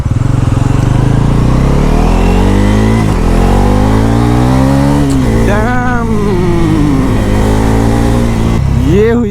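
A Bajaj Pulsar NS400Z motorcycle accelerating hard in sports mode, its engine note rising through the gears in loud, close revving sweeps with brief drops at each shift, continuing strongly to the end.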